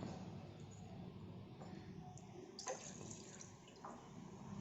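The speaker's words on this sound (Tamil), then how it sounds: "இப்போ பாலை ஊற்றிடலாம்." Milk poured from a tumbler into a pot while tea is being made, a faint steady liquid splashing and trickling with a few small clinks of the pot, in a quiet kitchen.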